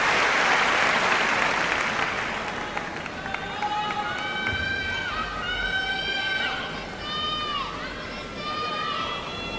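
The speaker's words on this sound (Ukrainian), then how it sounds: "Оплески, якими супроводжуються виступи спортсменок на різних" Broad applause fills a large Olympic gymnastics hall, loud at first and then thinning to a lighter patter, while a commentator speaks over it and a whistle-like melodic tone rises above the crowd.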